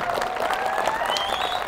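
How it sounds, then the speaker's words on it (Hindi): An audience at a school farewell party applauds a teacher coming up for an award, with continuous moderate clapping and a faint whistle-like tone rising through the crowd noise. "clapping for Sir Umar Farooq"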